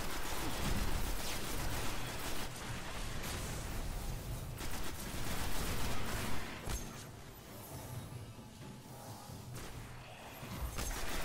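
Sustained gunfire from the video game Destiny, dense rapid shots and mechanical clatter running continuously and loud, easing slightly toward the end, with no talk.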